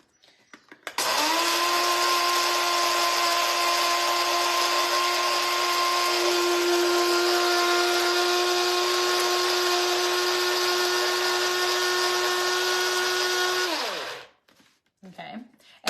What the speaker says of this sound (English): now I'm putting these seeds into the spice grinder, and I'm going to grind them up